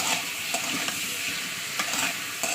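Pumpkin and potato pieces fry with salt and turmeric in a pan, giving a steady close sizzle broken by a few sharp scraping stirs, with no talk.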